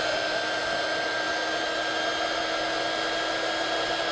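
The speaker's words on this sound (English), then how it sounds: "you could do this with your hairdryer." A hair dryer blows steadily and loudly at close range on iron-on adhesive, a constant whooshing whine with no breaks for the whole stretch.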